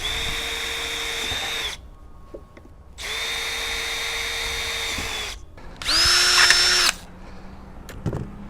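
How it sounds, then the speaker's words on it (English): A power drill bores holes for a DesignRail aluminum railing installation, running in three separate bursts of steady, loud whine with short pauses between. The last burst is higher pitched and louder, ending with a few light knocks. "you must get the holes drilled in"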